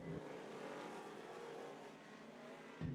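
Race cars roar around a track in a dense, steady wash of engine noise, with a fresh surge near the end. The sound is faint and distant, with no voices.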